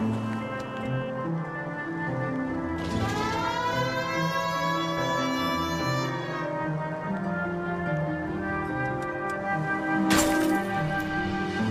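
A rising, wailing siren in the video game L.A. Noire sweeps upward and holds among droning machinery and rumbling noise, followed by a sharp crack and clatter of breaking debris.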